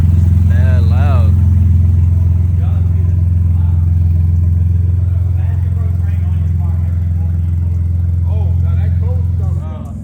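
Turbocharged car with a loud aftermarket titanium exhaust and an open dump, a deep steady droning rumble close by throughout, with people talking over it.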